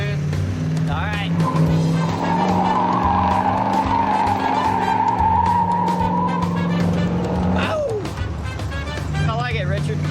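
A Ford F100 hot rod truck roars along with its tires squealing in long sustained screeches, the engine loud and close, with a voice briefly heard.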